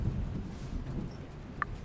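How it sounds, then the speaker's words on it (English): Thunderstorm in the Murder by Choice game: steady rain and low rumbling wash fill the clip at a moderate level, with a faint brief click near the end and no talk. "The storm is pretty rough."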